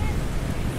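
Strong sea wind gusting at a beach cave, a loud buffeting rush against the microphone mixed with surf noise, brief and unbroken.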